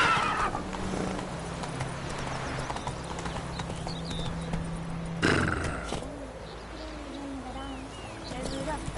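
In The Witcher 3, the horse Roach gallops with steady clip-clopping hooves and lets out a whinny, set against ambient outdoor sound with birds faintly present and a voice in the background.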